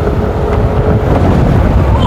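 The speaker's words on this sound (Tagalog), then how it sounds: "Napakalakas ng hangin." Strong wind roars steadily across the microphone during an outdoor cycling race, a dense, continuous rushing noise with no talk.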